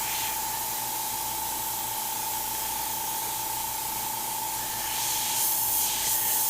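Airbrush spraying heavily thinned paint with a steady, soft hiss and airflow throughout, growing a little louder toward the end, with no talking over it.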